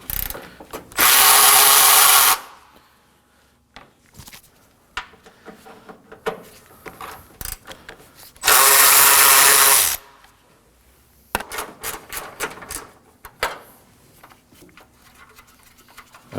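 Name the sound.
Ratchet with 10mm socket removing bolts on Acura MDX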